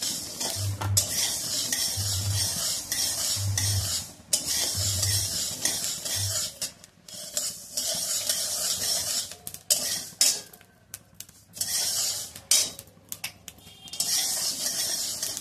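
Thalipeeth bhajani grains dry-roasting in a pan, with repeated scraping and stirring of a spatula against the metal, close and fairly loud, in uneven bursts with short pauses, no talk.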